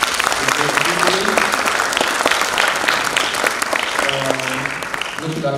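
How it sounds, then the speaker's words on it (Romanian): An audience at a youth debate event in Bacău applauds, producing a dense, sustained clatter of clapping throughout, with a voice speaking faintly underneath near the end. "Cred că merită să și aplaudați."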